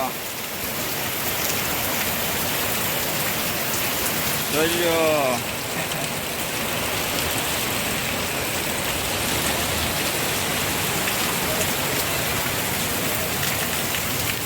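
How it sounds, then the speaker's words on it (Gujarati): Steady heavy rain pours down on surfaces all around, a dense continuous hiss, while a voice briefly says a word partway through. "મેંદડામાં વરસાદ જોઈજો"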